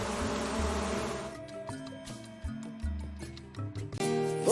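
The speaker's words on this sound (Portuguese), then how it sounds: "Proteja as abelhas." Stingless bees at an outdoor meliponary give a hissing buzz at the start, then fade under soft, tonal music, with no voices.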